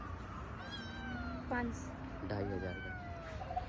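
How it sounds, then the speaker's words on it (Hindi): A white cat meows in short, rising calls, heard close under ongoing Hindi-speaking voices of people haggling over a sale. "वाइट बिल्ली देखिए यहाँ पे है"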